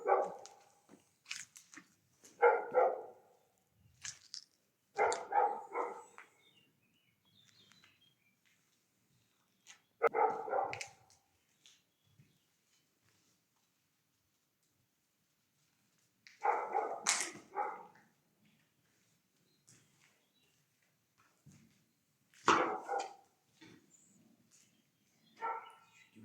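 Dogs bark in loud, close bursts inside an abandoned cheese factory, several barks at a time separated by long stretches of near silence.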